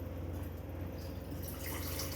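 Water pouring into a pan for cooking pasta, a soft continuous splashing trickle that brightens toward the end, faint and steady with no talking.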